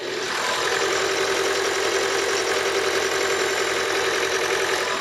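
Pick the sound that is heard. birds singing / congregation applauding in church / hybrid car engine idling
hybrid car engine idling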